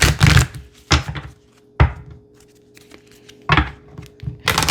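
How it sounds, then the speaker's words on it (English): A deck of Healing with the Fairies oracle cards is shuffled, giving a few sharp close riffling bursts separated by short quiet gaps, loud and alone without speech. "I'm going to give it one shuffle."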